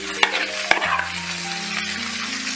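Chicken breasts and onion frying together in a pan for a chicken korma, with a steady close sizzle, occasional clanks and scrapes from stirring, and a faint hum underneath.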